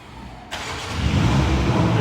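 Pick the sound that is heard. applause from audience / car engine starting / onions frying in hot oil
car engine starting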